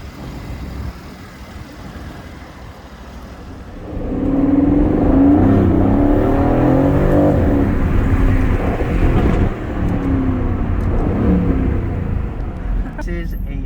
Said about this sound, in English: This is a Aston Martin Vantage 2019, is that right? Yes. 2019, 503 horsepower, and it is a twin turbo.